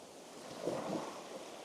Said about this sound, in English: getting out of the waves as they come in